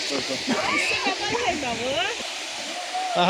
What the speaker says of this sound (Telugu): ఇక్కడ 2 వాటర్ ఫాల్స్ కనపడి చూసారా?